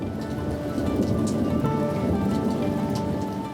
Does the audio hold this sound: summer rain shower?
yes